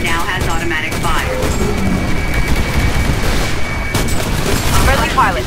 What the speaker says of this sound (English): Your 40 mil cannon now has automatic fire.